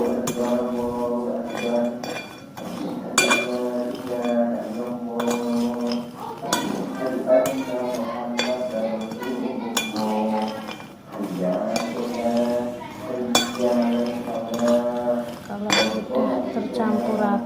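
A spoon stirs granulated sugar mixed into crunchy spiral macaroni in a bowl, giving repeated close clinks and scrapes against the dish in steady rounds, with brief quieter pauses between passes.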